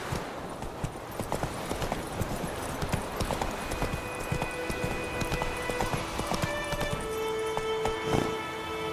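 A horse gallops in The Witcher 3 video game with a brisk, steady clip-clop of hooves throughout, fairly close, over a faint game background hum.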